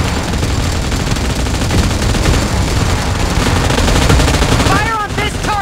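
Dense, loud automatic gunfire in PUBG Mobile, a continuous barrage of overlapping shots with game voice callouts briefly heard near the end.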